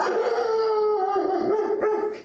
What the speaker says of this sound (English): Their golden doodle, Loki, keeps barking